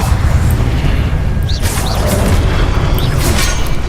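Spell effects in the Hogwarts video game as an Incendio fire spell is cast amid combat, a loud rumbling whoosh with a couple of short bright bursts and pops over dense low-end noise.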